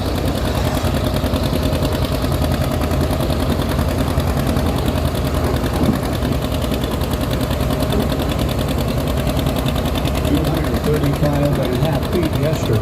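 A little John Deere 50 antique tractor at a tractor pull runs with a fast, steady, rattling engine chug that stays loud and continuous throughout, with crowd or announcer voices faintly mixed in.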